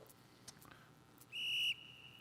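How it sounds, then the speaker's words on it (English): A referee's whistle gives a single short, sharp blast of about half a second, clear and moderately loud over a quiet background. "You didn't hear that whistle?"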